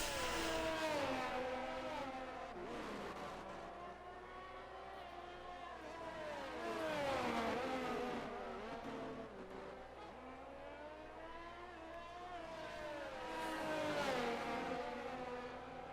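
Simulated F1 22 race cars at a virtual Belgian Grand Prix, several high-pitched engines whining and shifting gears in a close train, rising and falling as they accelerate and brake, steady and fairly loud with no talk.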